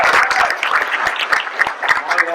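Audience applause fills a live Star Wars convention panel, dense steady clapping from a crowd lasting the whole moment with scattered sharp claps standing out.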